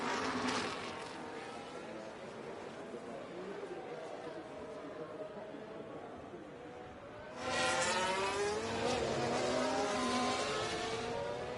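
Race car engines drone in the background of the F1 Manager 24 racing game, rising louder near the end, under steady commentary.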